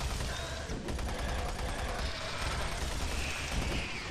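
Submachine gun fire in Doom 3 rattles in a dense, rapid burst that runs almost continuously, loud and close, with no talking.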